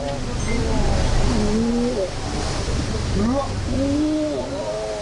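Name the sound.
tsunami wave swelling at sea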